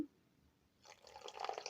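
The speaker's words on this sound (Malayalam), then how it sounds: "കുറച്ചും കൂടി വെള്ളം ഒഴിക്കുക." Water pours into egg bajji batter in a bowl, a soft trickling splash starting after a quiet pause and continuing close and faint.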